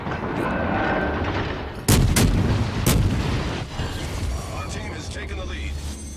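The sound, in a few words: warship gunfire in video game World of Warships Legends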